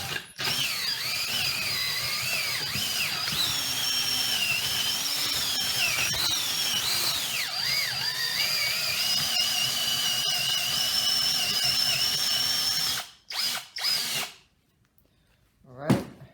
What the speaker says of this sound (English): Now I'm going to use this drill bit just to clean it up and make it nice and smooth.